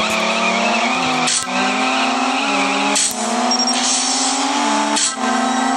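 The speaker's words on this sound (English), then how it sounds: "That was too much wheel spin on that" A C63 AMG Coupe races a Nissan GT-R at the start of a CSR Racing drag race. The engine drones loudly with wheelspin squeal, dipping briefly at each of three quick gear shifts.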